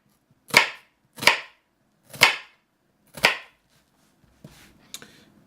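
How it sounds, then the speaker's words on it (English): A kitchen knife chopping an onion on a cutting board for pasta primavera, four sharp, evenly spaced chops followed by a couple of lighter taps, close and crisp with no speech. "And then we're gonna chop."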